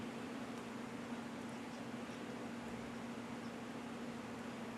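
An electric fan runs loudly and steadily close by, a constant whooshing drone with a low hum, alone and without talk.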